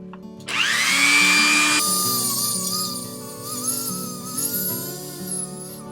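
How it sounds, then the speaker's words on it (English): A power tool polishes a small bent piece of aluminum, giving a steady, close whirring whine with shifting high-pitched tones as the pad works the metal surface, running continuously without talk. "now it's time to just polish it up a little bit"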